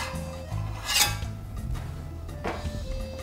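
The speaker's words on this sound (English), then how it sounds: "Then I take my metal spatula and go under and make sure it's not attached to the bottom of the pan." A metal spatula scrapes under a Spanish tortilla in a pan, with short close scraping and clinking strokes against the pan bottom.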